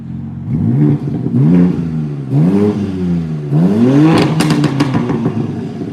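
Four quick throttle blips from a 2021 BMW M3/M4 engine, each rising and dropping back to a rumbling idle, heard up close with crackles after the last rev.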